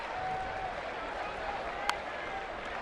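A lively afternoon crowd at a Baltimore versus San Francisco baseball game in San Francisco fills the ballpark with a constant broad roar and murmur, one brief sharp crack standing out near the end.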